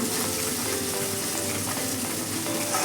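Masala paste for paneer kolhapuri fries in oil with a loud, continuous sizzle and crackle, steady throughout with no voices.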